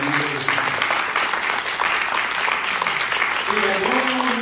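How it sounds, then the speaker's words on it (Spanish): Church congregation applauding during a sermon, a loud steady wash of many hands clapping throughout, with a voice speaking over the applause near the start and end. "Denle un aplauso, por favor,"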